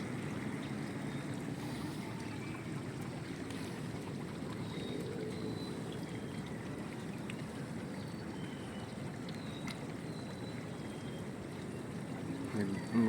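Heavy river floodwater rushes in a constant, rumbling roar in Barangay Nangka, Marikina City, with wind buffeting the microphone throughout.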